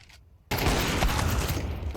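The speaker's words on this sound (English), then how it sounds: "He's just shot off a bullet." Counter-Strike gunfire on the Inferno map erupts suddenly after a quiet moment, a loud dense burst of shots that carries on for about a second and a half.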